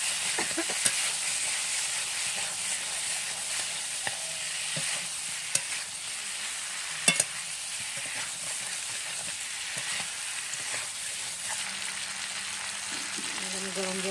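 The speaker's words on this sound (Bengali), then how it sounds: "এখন ফুলকপিটাও দিয়ে দিচ্ছি। ফুলকপির থেকে তেল ঝরেছে।" Cauliflower frying in oil in a pan for a tilapia fish curry, a soft continuous sizzle with occasional scrapes and clicks of stirring, fairly quiet and steady throughout.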